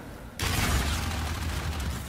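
Gunfire in the video game Call of Duty: Infinite Warfare breaks out abruptly after a brief quiet moment, then continues as a loud, sustained roar of rapid shots with a heavy low rumble.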